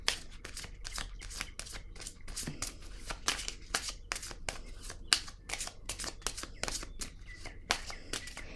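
Tarot cards are shuffled and drawn, close and crisp, in a quick run of riffling bursts and soft slaps with short pauses between them.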